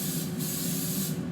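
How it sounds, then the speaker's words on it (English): A short, steady hiss of canola oil cooking spray being sprayed onto a pan, close up, with no talking. "Spray my pan."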